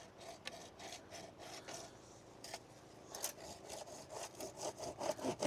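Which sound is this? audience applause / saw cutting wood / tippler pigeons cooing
saw cutting wood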